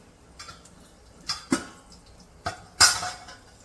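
A metal lid clinks down over a pan of fried fish, a few sharp close taps and a final ringing clatter in a quiet kitchen.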